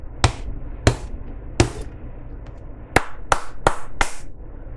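Seven sharp hand claps close by in a quiet room, irregularly spaced over a few seconds, with a low background hum from an air purifier.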